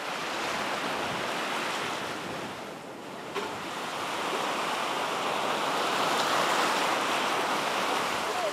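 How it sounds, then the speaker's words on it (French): Ocean surf breaking near the shore along the coast of Guadeloupe, a dense continuous wash of crashing waves with a brief lull midway before the roar swells back louder, accompanied by some wind. "Les vagues viennent se briser plus près du rivage"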